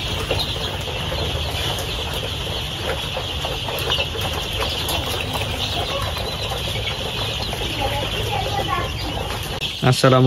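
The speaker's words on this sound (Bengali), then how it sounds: "আমি এখন এসেছি একটি মুরগির খামারে।" Young chicks at a large poultry farm keep up a dense, steady chorus of cheeping and clucking with some wing flutters, loud and continuous throughout.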